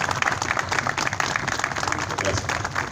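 A crowd at a civic reception in Caucete gives dense, steady applause, many hands clapping loudly and continuously for a few seconds.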